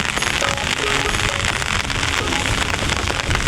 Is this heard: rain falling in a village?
yes